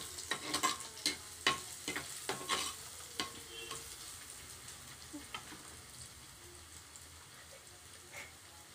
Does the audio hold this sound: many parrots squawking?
no